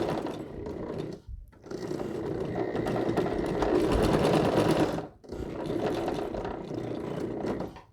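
A sewing machine runs close and loud while stitching a quilt storage bag, in two long bursts separated by short pauses as the fabric is turned.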